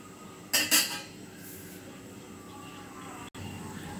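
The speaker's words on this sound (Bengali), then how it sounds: "তো এখন আমি এটাকে ঢেকে দেব।" A metal lid set onto a cooking pot of chickpea pulao in a home kitchen, two quick clanking knocks close by, followed by a low steady background hum with one brief click near the end.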